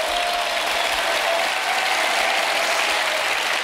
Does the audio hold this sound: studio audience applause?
yes